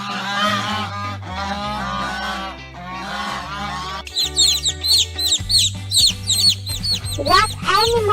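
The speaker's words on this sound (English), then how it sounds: "Goose." A goose honks repeatedly over a steady background music track, its calls loud and close in a rapid, irregular series that grows busier toward the end.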